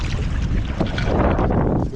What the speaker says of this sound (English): When it's really windy like this, and we got rain coming in